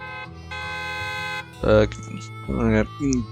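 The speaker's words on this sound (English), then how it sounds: "A loud honk echoes" A loud vehicle horn honk in Zenless Zone Zero, a sustained tonal blare lasting over a second, followed by a voice speaking.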